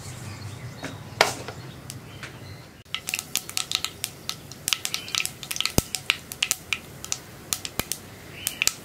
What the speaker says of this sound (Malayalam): ഇപ്പോൾ നമ്മുടെ കടുക് പൊട്ടിക്കൊണ്ടിരിക്കുന്നുണ്ട്.